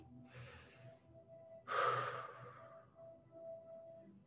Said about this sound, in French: Encore une respiration.